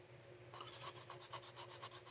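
A hand file rasps back and forth over wood to knock down rough spots, making quiet, close, rhythmic scraping strokes that start after a brief pause.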